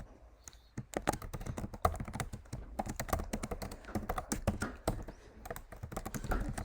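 Rapid, uneven clacking of keys on a computer keyboard while a simple C program is typed in; close, crisp taps in bursts with short pauses, no speech.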